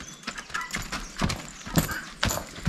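A small horse's hooves clip-clopping in an uneven walking rhythm, a series of close, fairly soft knocks on hard ground, with no talking.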